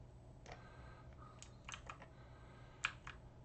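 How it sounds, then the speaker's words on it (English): A cat stepping across a computer keyboard gives a scatter of faint, irregular key clicks over about three seconds, with one sharper press near the end, all quiet against a low steady background hum. "And I've got a cat on my keyboard."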